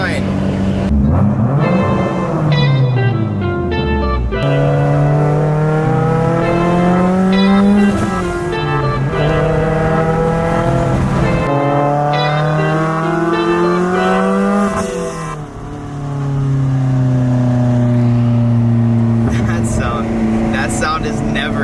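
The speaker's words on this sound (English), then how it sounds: "Damn, her car is way louder than mine." Mitsubishi Evo X widebody with a big turbo, engine revving hard in repeated rising and falling sweeps, loud and close, with a brief lull near the end before it picks up again and people speaking briefly.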